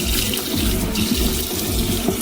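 Tap water runs steadily into a bathroom sink for face washing, a loud continuous splashing rush with no pauses.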